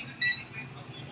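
Short electronic buzzer beep from a multimeter continuity test on the board of a Huawei 55-inch LED TV with no display, a single brief tone over a quiet room hum.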